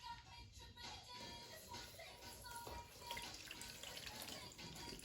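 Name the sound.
water running for washing hands and feet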